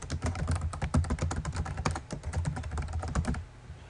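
Rapid, close typing on a computer keyboard as a comment is written, with dense clattering keystrokes that continue steadily and then stop near the end.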